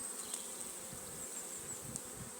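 Honeybee swarm in a WBC hive, a continuous close buzzing hum from many bees that holds steady throughout with no voices.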